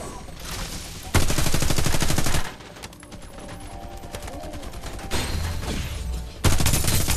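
Rapid bursts of automatic gunfire from the battle royale shooter Farlight 84, loud dense volleys alternating with quieter stretches of distant shots and game effects, no talking.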